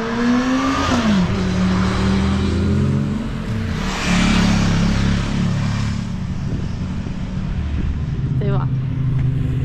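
Motorcycles ride a Swiss Alpine mountain pass road in the morning, their engines droning steadily with rising revs as they pass at middle distance, while a voice talks over the traffic noise.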